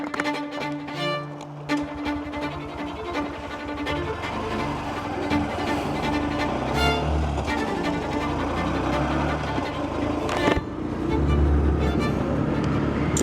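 A Honda CB125F motorcycle rides along the road, its small engine droning steadily and close by, mixed with rushing wind and road noise, with a brief dip and swell in the engine note partway through.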